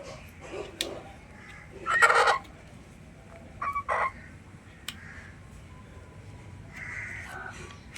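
A chicken clucks in short, separate bursts: a few scattered calls, a louder squawk, then a quick pair of clucks, with softer murmuring clucks near the end and quiet pauses between.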